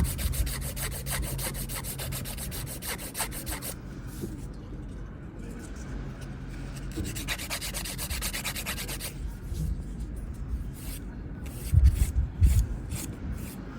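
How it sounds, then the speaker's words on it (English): A nail file rasps back and forth across fingernails during an at-home manicure, soft repeated scratchy strokes in bursts with short pauses, close and quiet, with a few low bumps near the end. "So I'm not filing in one direction because it's bad to file in both directions."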